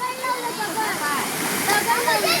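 A monsoon waterfall stream rushes and splashes steadily close by, a constant loud roar of flowing water with a voice talking over it.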